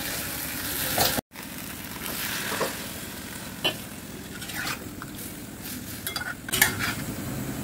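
A curry is stirred and sautéed in a pan on a home stove, giving a steady close-up sizzle with repeated scraping and clinking from the spoon against the metal, and no talking.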